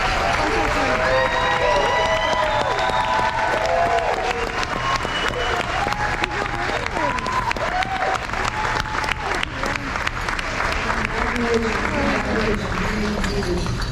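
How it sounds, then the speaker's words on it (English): Sustained clapping and cheering from a crowd honoring 136 graduating seniors at a high school senior awards ceremony, a dense, continuous roar of hands with scattered shouts and voices throughout. "would all you 136 please stand up so we can give you one more round of applause"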